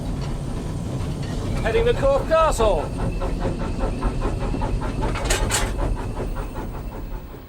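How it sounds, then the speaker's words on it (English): A steam train pulls out of a station on a slight downgrade near Corfe Castle, with another engine pushing at the rear; steady rumbling and chuffing run throughout, with brief steam hisses and squeal, while someone talks over it. "we're just leaving the station on a slight downgrade"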